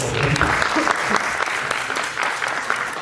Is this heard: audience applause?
yes